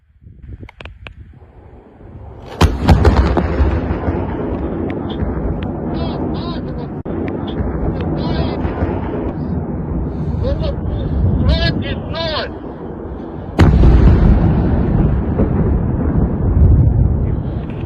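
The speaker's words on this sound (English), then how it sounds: "This is a shoot down of one of those cruise missiles." A cruise missile shot down over Ukraine: a sudden heavy blast cuts through windy, rumbling outdoor noise, a second deep boom follows later, and people can be heard talking throughout.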